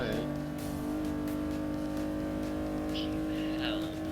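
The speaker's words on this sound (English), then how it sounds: "Dropped it into 4th here and just kind of accelerating out through 4th." A car in the Forza 6 racing game accelerates through 4th gear during an online B-class race, its engine a steady, droning, harmonic whine that rises slightly and stays loud throughout.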